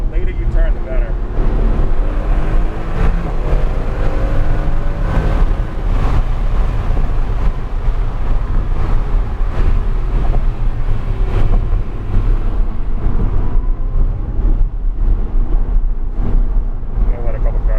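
Race cars run on the track at NHMS during morning warmups, engine roar and wind buffeting heard from inside a car, steady and loud throughout, with a driver talking over it.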